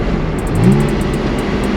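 A Porsche sports car engine drones loudly and steadily from inside the cabin, rising slightly in a brief rev after a downshift, with rumbling road noise throughout.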